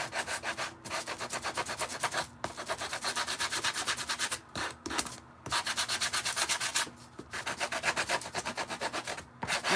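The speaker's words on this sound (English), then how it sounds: "while I sand this guy" Sandpaper rubbing back and forth over a small scrap-wood ghost craft figure being distressed, a steady rhythmic scratching in quick strokes with a few brief pauses, close and fairly loud, no talking.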